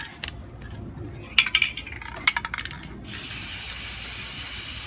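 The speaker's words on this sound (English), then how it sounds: "Trini's spraying them." A spray paint can coats pears gold outdoors, a few short hissing bursts with light clatter, then a steady close spray hiss to the end.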